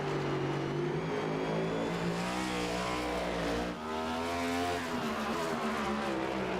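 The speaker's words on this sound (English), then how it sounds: "Hear that beautiful sound of the NASCAR Cup Series car, the V8 that roars under the hood." NASCAR Cup Series stock car's V8 engine roaring steadily at a road-course race at Sonoma Raceway, a continuous loud drone with pitch rising and falling through gear changes, heard alone.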